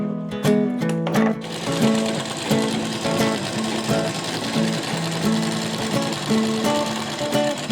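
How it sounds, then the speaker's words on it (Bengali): Close sewing machine stitches a hem into folded cloth in short repeated bursts with brief pauses between them, a faint voice occasionally underneath. "আমি মুড়ে সেলাই দিয়ে দিচ্ছি"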